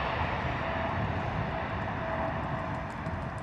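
Thai Airways Boeing 777-300 departing Heathrow, a steady broad jet roar filling the whole stretch at moderate distance, constant and unbroken with no voices.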